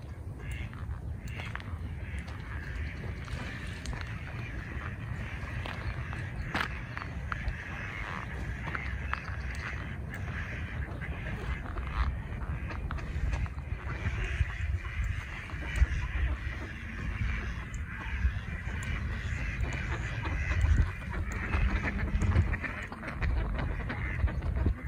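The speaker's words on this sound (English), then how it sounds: "I think the ducks may be in the pond." A large flock of ducks quacking at a pond, a continuous chorus of overlapping quacks and honks at moderate distance, growing slightly louder over time with a person occasionally talking.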